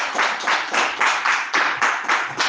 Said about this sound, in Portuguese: Louve o Senhor com palmas bem forte para Jesus